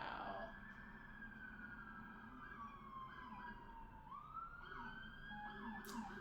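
Emergency sirens wail continuously at a distance in New York, their pitch sliding up and down over a low traffic rumble.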